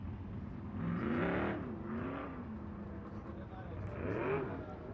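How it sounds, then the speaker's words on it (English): Non-wing sprint cars run hot laps at Arizona Speedway, their engines rising and falling in pitch as they pass, moderately distant beneath an announcer talking throughout. "So our non-wing sprint cars coming out for their hot lap session here for the Santan Ford Desert Sprint Car Series"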